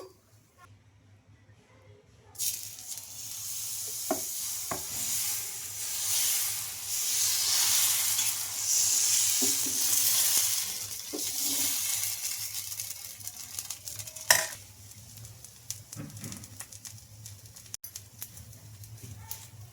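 Rice flour dosa frying in a hot pan, a soft steady sizzle and hiss that swells after a quiet start, with a few scraping and tapping knocks from a spatula as it cooks.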